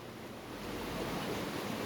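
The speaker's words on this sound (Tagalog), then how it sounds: "O ayan, kumukulo po talaga siya." Water at a full rolling boil gives a steady, dense bubbling roar that holds at an even level and swells slightly toward the end, close by, with no talk over it.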